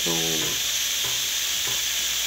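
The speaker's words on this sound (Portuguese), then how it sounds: "A carreteira já está fritando, já ficou a carne" Carreteiro rice with meat sizzles and fries in a pan as a loud, steady crackle, with brief stirring scrapes and a few words of speech over the top.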